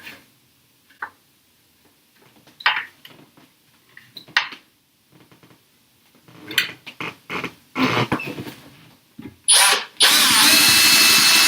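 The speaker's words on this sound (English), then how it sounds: "I want to make sure I'm keeping this level, so drill accordingly" A power drill whirs in a few short bursts, then runs loud and steady for several seconds as it bores into a wall.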